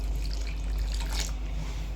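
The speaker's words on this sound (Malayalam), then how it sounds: "സ്റ്റവ് ഓഫ് ചെയ്ത് കൊടുത്തിട്ട് നമുക്ക് 1 കപ്പ് കൂടെ വെള്ളം ഇതിലേക്ക് ഒഴിച്ചു കൊടുക്കാം" About a cup of water is poured into a pot of cooked rice after the stove is switched off, making a brief steady trickle over a constant low hum.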